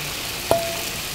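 Wild mushrooms sautéing in a pan, a soft continuous sizzle with a single short metallic clink near the middle, no talking.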